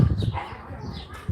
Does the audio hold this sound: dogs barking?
yes